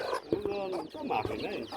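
A hen with a brood of eight to ten chicks, giving short soft clucks and high peeping calls in quick irregular bursts, close by and fairly quiet.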